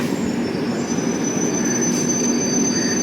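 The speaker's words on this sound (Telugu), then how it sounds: "నెంబర్ 3 పైకి అయితే మన ట্రైన్ వచ్చి ఆగింది." Kanyakumari Express braking to a halt at Paravur station, a continuous close rumble of rolling carriages topped by thin, high, sustained wheel squeals, with no talking.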